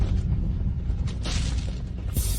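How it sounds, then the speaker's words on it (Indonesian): Fireworks bursting outdoors at night, with low rumbling booms and sharp crackling bursts that flare up twice over a continuous dull roar. "Wah, kembang api."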